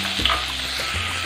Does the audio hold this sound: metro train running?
no